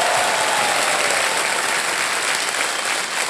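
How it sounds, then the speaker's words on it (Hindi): Studio audience on a television quiz show applauding a contestant's win: loud, dense, sustained clapping from a large crowd, even and unbroken throughout. "जोरदार तालियां बज जाए इनके लिए।"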